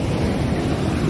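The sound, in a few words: sea waves on the La Union shore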